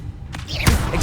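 Spell effects firing in the wizarding game Hogwarts Legacy: a couple of short whooshing bursts and a low thud, close and punchy, in quick succession.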